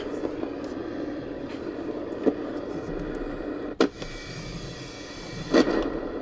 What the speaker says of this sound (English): Oh, excellent static.